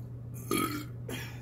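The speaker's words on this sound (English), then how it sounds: "Got a burp." A short burp after drinking ginger ale during a meal, two quick guttural bursts close to the mic, the first louder, over a low steady hum.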